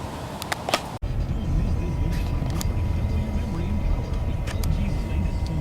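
Buick car from the 90s driving along in wintry weather, a steady low road and engine rumble after a brief cut, with a voice talking intermittently over it.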